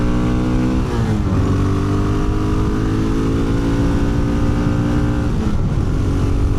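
A 2025 Honda XR650L motorcycle engine revs loudly and steadily up through its gears, with rising and falling harmonic tones marking two shifts, pulling strong in the mid-range and tapering near the top, heard up close with constant vibration.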